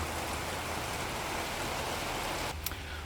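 Steady outdoor rainfall makes a dense, even hiss throughout, ending in a brief faint tap near the close, with no talking.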